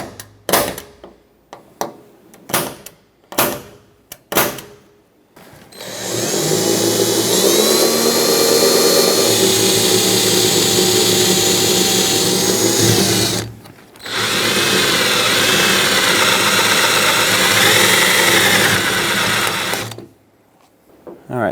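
A drill cuts out a steel-centered aluminum door handle rivet on a Ford E-350 rear passenger door: a few sharp taps first, then two long, loud, whining drilling runs separated by a brief pause.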